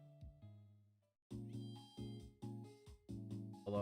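A cat meows repeatedly indoors, with a short call at the start and then a rapid run of loud, close, evenly paced meows, and no talking.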